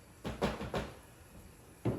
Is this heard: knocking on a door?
yes